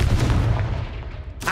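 Confringo fire spell explosion in the video game Hogwarts Legacy, a single deep booming blast with a rumbling low-end decay lasting over a second, loud and close, ending in a brief sharp burst.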